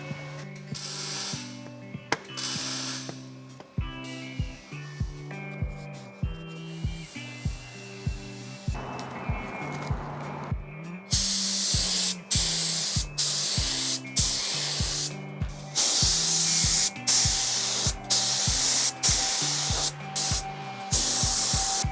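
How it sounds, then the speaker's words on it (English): A spray gun hisses in repeated bursts, short regular blasts separated by brief pauses, growing louder and brighter in the second half. "we'll just fill it up and start spraying"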